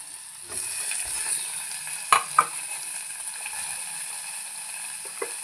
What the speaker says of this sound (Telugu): దొండకాయ, ఆనియన్ వేసేసి వీటిని బాగా ఫ్రై చేస్తున్నాము